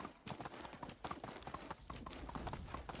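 Horse hooves clip-clop in a steady rhythmic gait while riding in the Medieval Dynasty video game, crisp and fairly close, with quiet background ambience.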